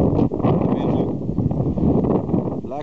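Strong wind gusts buffet the microphone outdoors under a dark sky, a loud, rough, continuous rumble with brief dips, close and dominant throughout.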